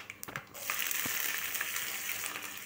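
Green chillies sizzling in hot oil with a tempering of dry red chillies and spices on low heat for mango carrot pulihora, giving a steady crackling fry with a few sharp pops near the start.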